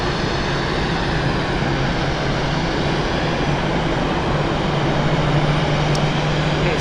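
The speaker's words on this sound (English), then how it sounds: "Its type is Boeing 77W." Swiss Boeing 777-300ER airliner at Zurich Airport, six years old, giving a steady, loud broadband engine roar with a low hum underneath that holds constant throughout, with no voices.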